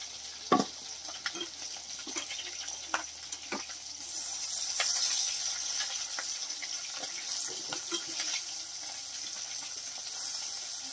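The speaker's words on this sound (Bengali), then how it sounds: "মাছগুলো একটু লাল করে ভেজে নিচ্ছে" Fish frying in oil in a pan, a soft continuous sizzle that swells midway, with scattered sharp clicks and taps of utensils and no talking.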